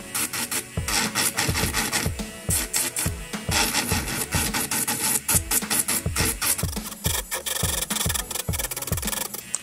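An electric nail drill spinning at 5,000 RPM grinds nail polish off, giving a rough rasping whir that repeats in quick regular strokes, close and loud throughout with no voices.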